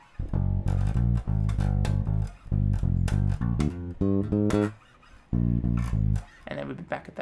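A bass guitar plays a plucked riff of low notes in short repeated phrases, with brief pauses between bars, close and clear.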